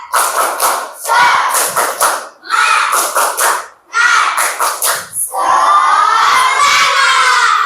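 Schoolchildren in an Islamic religious education class doing a tepuk semangat clapping chant: loud rhythmic bursts of group clapping and shouting in several phrases, ending in a sustained collective cheer.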